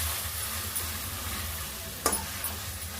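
Spoon stirring an egg and raw prawn curry in a pan, a close, steady low scrape and sizzle with one sharper clink of utensil against the pan near the end, no voices.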